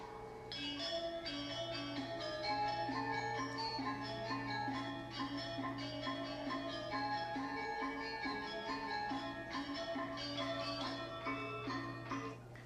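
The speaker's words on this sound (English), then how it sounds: "if you've never heard a Javanese gamelan orchestra" A Javanese gamelan orchestra struck with hammers, a quiet, steady shimmer of layered metallic tones with a sustained low drone beneath and interlocking pitched strikes throughout.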